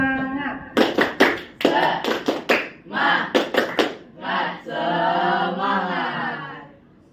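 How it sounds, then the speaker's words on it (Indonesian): A class of ninth-grade students performs a rhythmic spirit clap, tepuk semangat, with bursts of sharp claps falling in a patterned beat, mixed with loud group chanting voices throughout. "Tepuk semangat."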